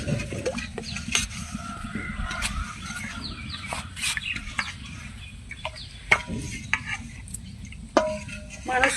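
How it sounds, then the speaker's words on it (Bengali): Pitha being stirred and turned in a pan, with scraping and clattering strokes at an uneven pace, while chickens cluck nearby in the background. "এটা আবার নাড়াচাড়া দিয়ে রাখা লাগবে"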